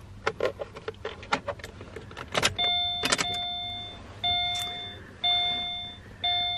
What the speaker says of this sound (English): We'll turn on the ignition here.